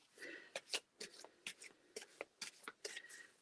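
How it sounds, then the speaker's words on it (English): A deck of Magical Unicorns oracle cards by Doreen Virtue is shuffled by hand, giving a steady run of crisp riffling flicks and soft card slaps at close range, with no talk over it. "So I'm going to keep shuffling my cards and we will see who wants to say hey."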